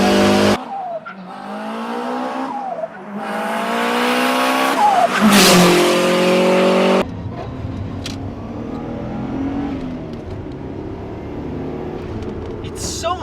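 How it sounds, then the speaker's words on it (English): A 1996 Subaru Impreza WRX V-Limited with a flat-four engine rumbling and revving while driving, loud and close, with rising gear pulls and a brief tire-squeal-like sweep before settling into a steadier drone. "you can still hear that classic Subi rumble"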